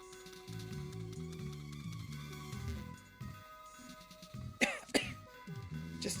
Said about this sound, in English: Just hearing there was a fire has me coughing uncontrollably